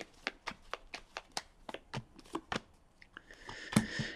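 Tarot cards are shuffled by hand in a rapid series of crisp riffling snaps and slaps, close and clear with no talk, ending in a brief denser rustle.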